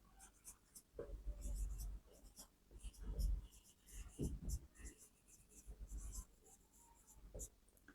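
A pen scratches out a handwritten maths answer on paper in soft, irregular bursts of strokes, faint and close, with quiet pauses between.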